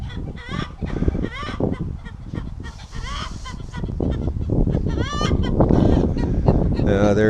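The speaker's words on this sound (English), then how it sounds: "chicken must have just laid an egg" Backyard poultry, chickens and ducks, cackle and honk loudly in a noisy, overlapping chorus of squawks and calls close by, with a voice mixed in.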